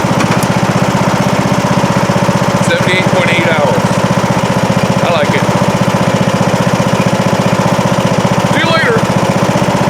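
A John Deere D105 lawn tractor engine runs steadily after a spring start-up, a loud, continuous close-up drone with a rapid regular pulse throughout, while someone talks briefly over it.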